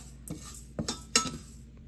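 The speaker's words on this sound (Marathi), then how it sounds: "तो मी इथे एका पातेल्यामध्ये टाकून मंद गॅसवर याला थोडंसं परतवून घेतेय" Washed, dried rice stirred and roasted in a pot over a low flame, heard as three distinct scraping, clinking strokes of a utensil against the metal, close and fairly quiet with no talking.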